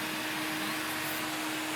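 A dryer blows air over a freshly washed coupe, producing a steady, close, loud whoosh with a constant motor hum and no pauses.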